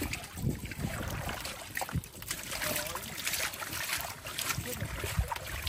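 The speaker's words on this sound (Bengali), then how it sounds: "আমাদের মাছ ওয়াশ করা হবে।" Freshly caught Sundarbans fish being washed in water, with uneven sloshing, splashing and trickling that stays fairly faint, under scattered voices and light wind.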